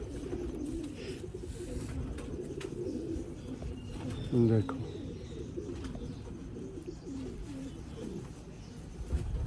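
Rooftop loft pigeons of the Mian Nazir bloodline in Sialkot coo in a continuous low murmur of overlapping calls, close by, while someone speaks briefly over them.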